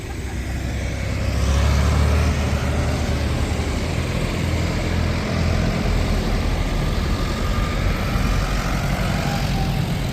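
A car passes during a young farmers' tractor run through Witney, a steady engine and road roar that swells briefly early on and then holds fairly loud and even, with no voices.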